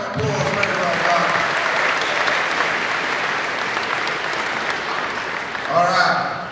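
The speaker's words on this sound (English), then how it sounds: "Give a big round of applause." An audience at a tribal dance performance gives a big round of applause, with sustained clapping throughout. A voice speaks over the opening and again near the end.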